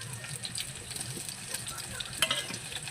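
Onion, garlic and chopped raw mango fry in hot oil for a dal, making a quiet, crackly sizzle with soft stirring scrapes and a brief spatter, heard close but at low level.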